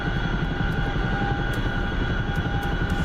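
Chinook helicopter flying in strong wind in a video game: a steady, moderately loud rotor and engine drone that holds unchanged for three seconds, with no speech.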